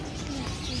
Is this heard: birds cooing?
yes